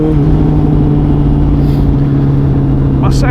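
A Honda CBR650R motorcycle engine drones loudly and steadily while the bike is ridden, a strong continuous hum with wind rush, heard close over the whole short stretch.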